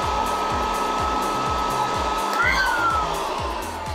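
A cheap electric blower for touchless car washing runs steadily and loud, a continuous whooshing roar with a whining tone that rises briefly in pitch midway, with no talk over it.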